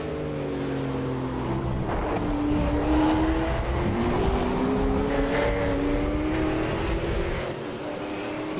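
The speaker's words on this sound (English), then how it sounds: "he's literally doing that, cutting his engine down the straight." V8 Supercar race car coasting down the straight at Road America with its engine cut, a steady loud mechanical drone with gliding harmonic tones throughout, easing slightly near the end.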